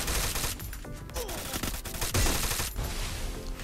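Rapid automatic gunfire in the Free Fire battle royale game, dense bursts of shots crackling close and loud across the whole stretch, with brief gaps between volleys.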